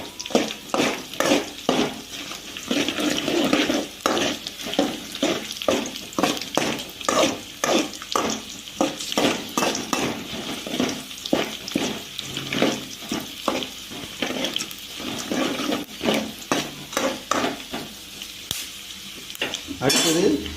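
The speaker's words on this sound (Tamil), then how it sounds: "வதக்கிட்டு நல்லா வேக விடணும்." Ingredients for lemon rice sautéing in a hot pan, with steady sizzling and repeated scraping strokes of a spoon against the metal, loud and close, continuing without speech.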